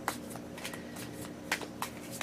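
Lenormand cards with images on both sides being shuffled and handled, quiet soft riffles and papery slaps of cards sliding and tapping together in a few quick bursts over a faint steady hum.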